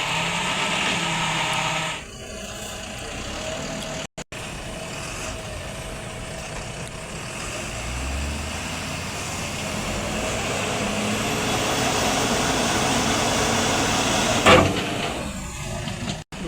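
A JCB 3DX backhoe loads mud into a Tata dumper truck. Diesel engines rumble steadily throughout, with a brief air hiss and clanking thuds at moments.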